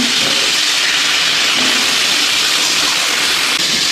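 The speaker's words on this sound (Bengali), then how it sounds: "বন্ধুরা পটলগুলো ভেজে নিই" Pointed gourd (potol) pieces fry in oil in a wok, giving a steady, loud, broad sizzling hiss that holds unchanged throughout with no voices.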